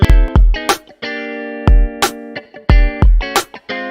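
Drum loop of kicks, snares and ringing tonal hits run through a TCS-68 cassette tape channel plugin, played loud and upfront in a steady repeating pattern with no talking.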